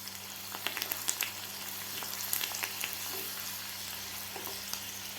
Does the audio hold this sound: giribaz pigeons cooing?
no